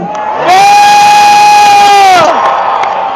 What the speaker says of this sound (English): Let's give a cheer for every patriot who says they will not bow down.